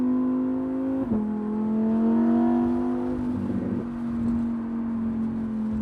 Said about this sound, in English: No, that downshift and then the pull was different